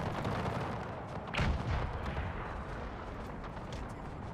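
Musket volley fire in Napoleon Total War with the Era Mod, a dense, distant rumble of massed shots that swells briefly in the middle and holds as a steady roar throughout.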